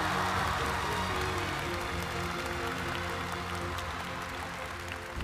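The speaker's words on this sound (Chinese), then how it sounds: "让我们再次把掌声送给这一对同龄人" A studio audience at a televised singing competition applauds a pair of singers, with steady, dense clapping filling the hall for several seconds before easing slightly.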